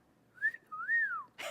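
A person whistles a short two-note phrase, the first note quick and the second a longer gliding rise and fall, clear and close, followed by a brief breathy burst.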